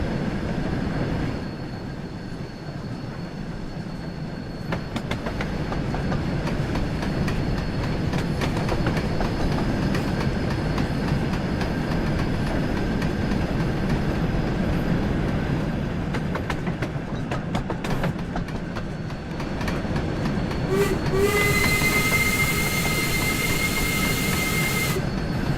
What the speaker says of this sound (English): so it's pretty quick for a steam train.